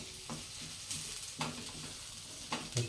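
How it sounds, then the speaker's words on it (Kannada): Green chilies frying in a pan for a drumstick-leaf and egg stir-fry, a steady close sizzle broken by a few short scraping stirs. "ಈಗ ಹಸಿಮೆಣಸಿನ್ಕಾಯಿನೂ ಫ್ರೈ ಮಾಡ್ತಿದ್ದಾರೆ"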